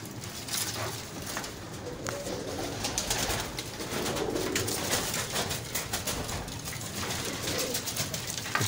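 Teddy, golden and prince golden breeder pigeons coo together in a Lahore loft, a dense continuous chorus of soft throaty calls layered close and steady throughout.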